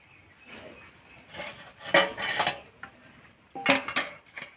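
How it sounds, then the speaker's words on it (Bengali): A perforated metal plate is set into a bowl while making jackfruit naru, producing a few soft scrapes followed by louder close metallic clanks and rattles. "এখানে একটা ফুটো থালা নিয়েছি যে গামলাতে রাখবো"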